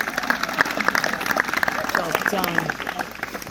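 Wedding guests at a ceremony clap and applaud, a steady patter of many hands throughout, mixed with talking and voices over the top.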